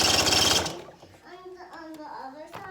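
Sewing machine stitching a zipper into a qaspeq: a short, fast mechanical whir for under a second, then stopping as a child and an adult talk nearby.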